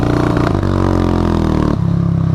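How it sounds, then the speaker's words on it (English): Buell motorcycle doing a burnout, its engine roaring loud and close with rough revving, a scraping tire squeal over it, and a drop in pitch near the end. "Nice little burnout there though."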